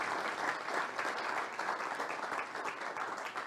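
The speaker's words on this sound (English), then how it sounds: "How about a round of applause again for the cast and their production?" An audience applauds the cast and production of a community theatre performance, with steady, full clapping from a crowd at moderate distance that holds evenly throughout.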